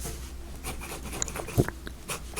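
A Diplomat 1922 metal fountain pen scratches across paper, heard close with soft strokes and a few sharper taps over low room noise.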